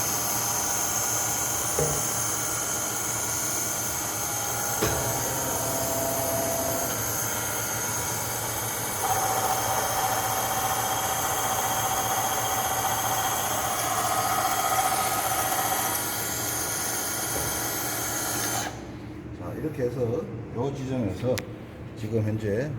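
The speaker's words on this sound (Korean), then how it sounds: "구멍을 뚫었습니다." Machining lathe or drill press drilling a hole at reduced spindle speed, a steady whirring motor drone with a thin high whine that runs for most of the stretch, then cuts out, leaving quieter mechanical clatter near the end.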